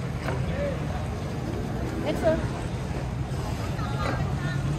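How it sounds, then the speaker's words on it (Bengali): A speedboat pulls up to a pier in Pattaya on a Coral Island tour. Its steady low engine rumble runs throughout, with wind buffeting the microphone and people talking nearby. "এটা হচ্ছে স্পিড বোট।"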